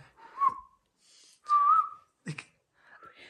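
A parrot mimics a rising, fluting koel call in short whistled phrases, repeated with pauses, close and clear.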